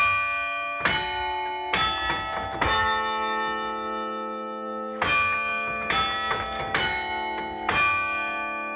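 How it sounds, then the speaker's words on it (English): Westminster chime for the half hour rung on tower bells, an Easter tower chime: two phrases of clear, ringing struck notes with long overlapping harmonic decay, fairly loud and close, with no talk. "So first, the Westminster chime for the half an hour is up."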